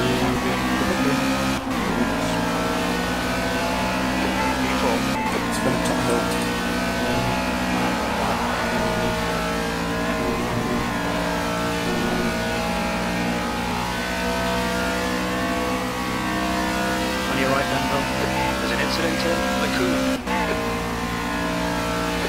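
A race car engine in the Project Cars video game drones steadily as it leaves the pits at Spa-Francorchamps, a continuous, loud, even hum with brief gear-shift dips, with no talk over it.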